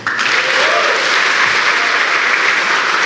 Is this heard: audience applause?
yes